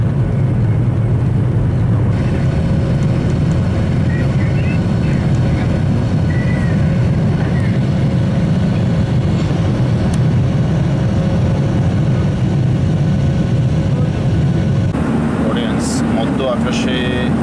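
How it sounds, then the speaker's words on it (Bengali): Inside the cabin of a US-Bangla Airlines Boeing 737-800 during takeoff, a loud, steady jet engine roar builds and holds, with a brief change in tone near the end. "বন্ধুরা, বিমানটি টেক অফ হচ্ছে"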